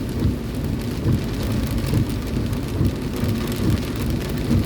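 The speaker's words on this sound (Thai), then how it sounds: "ฝนตกหนักที่อุดรนะ" Heavy rain in Udon Thani, Thailand pours down in a dense, loud roar, with low rumbling mixed in throughout.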